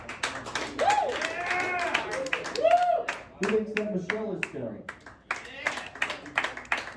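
A street audience at a game show in Jersey City, NJ claps and cheers to vote for contestants, with scattered bursts of hand claps and yells mixed around a host's spoken questions.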